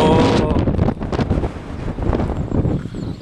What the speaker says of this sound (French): En plus il y a du vent.